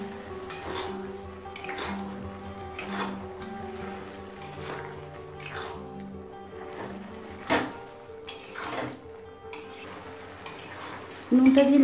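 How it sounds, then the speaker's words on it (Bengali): Salt being stirred into ash gourd in a pan while cooking a Bengali dish with hilsa fish head: repeated scraping and knocking of a spoon against the pan, with a soft sizzle underneath and no talk. "নুনটা দিয়ে নাড়াচাড়া করে চাল কুমড়োর সাথে মিশিয়ে নিয়েছি।"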